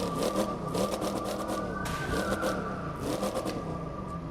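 Dodge Challenger R/T Riff Edition engine in The Crew 2, revving hard and loud during a top-speed run, with a steady roaring drone and repeated surges as gears climb, no talk over it.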